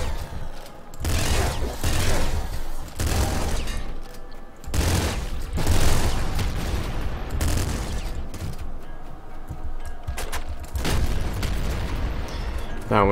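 Heavy bursts of gunfire and booming blasts from a grenade shotgun and wave gun in the video game Nuclear Throne, coming in loud repeated volleys that pound through most of the stretch.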